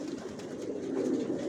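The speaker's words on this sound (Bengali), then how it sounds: "এখানে সব নিউ অ্যাডাল্ট কবুতরগুলো রাখা, সব ছাদের উপরে" Adult pigeons kept in a rooftop loft coo in a low, steady rolling murmur, fairly close and continuous.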